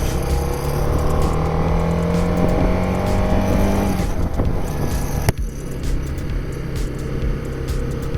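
A motorbike engine drones steadily up close on a winding mountain ghat road, its pitch rising and falling through gear changes as it climbs, with wind rush throughout.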